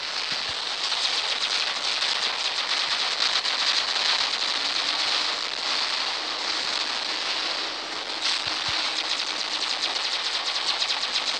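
A robot weapon firing in the mech game War Robots, heard as a dense, continuous rattling burst of rapid shots that runs steadily throughout at moderate loudness, with no talking.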